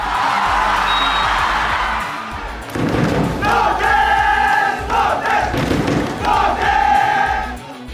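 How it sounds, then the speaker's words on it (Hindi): Football crowd at a Bodoland cup match in Assam, loud and close, a dense roar of voices rising into rhythmic chanted slogans with bursts of clapping and thuds. "मैदान तालियों और नारों से गूंज उठता है।"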